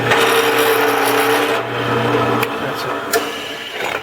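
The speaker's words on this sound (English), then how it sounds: "that's the holes drilled" Drilling holes in a steel plate for a woodworking vise: a steady motor whine with grinding, which cuts off partway, followed by a few sharp clicks and knocks nearby.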